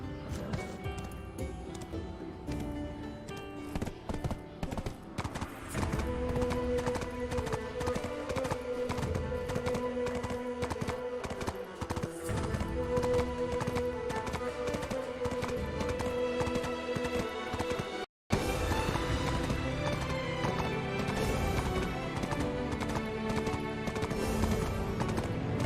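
A horse gallops steadily through a video game, its rapid hoofbeats pounding on without a break, with neighs and whinnies mixed in, under game music and effects with a momentary dropout near the end.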